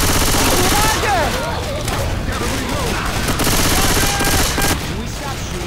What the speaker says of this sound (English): Can we stop shooting each other?